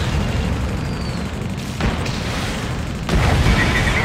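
An enemy aircraft blows up in the Ace Combat Assault Horizon flight game, a loud broad booming blast over dense jet and combat noise, with a second burst swelling near the end.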